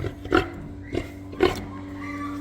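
Farm pigs, sows with piglets, grunt in their pen: three short, close snorting oinks spaced about half a second apart, then quiet.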